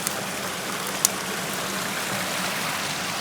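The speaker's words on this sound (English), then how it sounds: "There's a little bit of water coming from up there." A small stream of water trickles steadily across open ground near an old stone house site, a soft continuous wash of flow held at an even level throughout, with one brief faint tick partway through.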